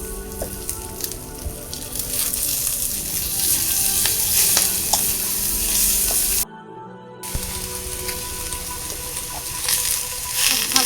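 Kheta greens frying in a pan in a Bengali village kitchen, a dense, loud sizzle with stirring sounds, briefly cut off midway and then resuming.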